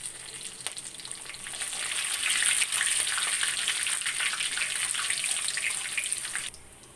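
Three dry red chillies, whole garam masala, cumin seeds and two bay leaves hit hot oil for a chicken curry, giving a steady, bright sizzle that swells midway and cuts off abruptly near the end, with no talking.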